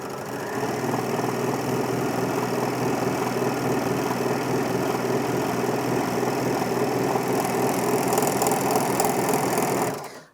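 A Bernina L450 overlocker runs a 4-thread overlock at steady high speed, a loud continuous mechanical whir with no pauses that cuts off abruptly at the end.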